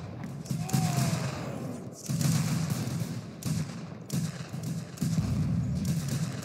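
Rifle fire at a battle reenactment of a farmstead battle, repeated sharp shots cracking out at irregular intervals, some near and loud, others more distant, over a steady outdoor rumble.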